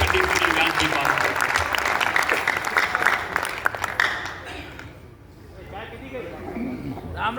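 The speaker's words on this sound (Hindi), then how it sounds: "एक बार जोरदार तालियां बजाइए" Loud audience applause rings through an auditorium at a Rajasthani poetry recital in Navi Mumbai, strong for about four seconds and then thinning out, with voices and crowd murmur beneath it.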